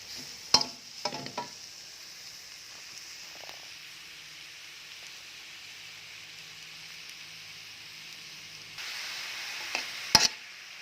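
Pork with lemongrass stir-frying in a pan for a Thai chili paste, a low steady sizzle with a few scraping stirs near the start and a louder sizzle toward the end.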